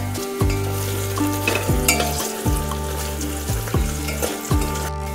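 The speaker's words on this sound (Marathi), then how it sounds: "आता थोडासा कढीपत्ता टाकायचा आहे।" Curry leaves dropped into hot oil over roasted ginger and garlic crackle and sizzle loudly and steadily. A spatula repeatedly scrapes the pan under a droning tonal hum.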